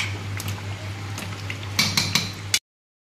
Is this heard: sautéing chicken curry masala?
yes